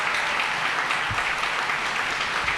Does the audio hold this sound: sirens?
no